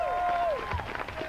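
A comedy club audience applauds and cheers in a warm swell of clapping, while a voice rings out briefly over the crowd.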